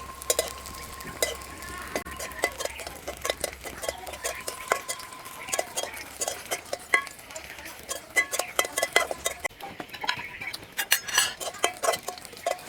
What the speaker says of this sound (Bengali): এখন দিয়ে দিচ্ছি 3টা শুকনা মরিচ